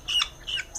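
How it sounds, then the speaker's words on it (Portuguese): Two short, harsh squawking calls from a helmeted guineafowl, close and fairly loud, separated by a brief pause. "Galinha da Angola."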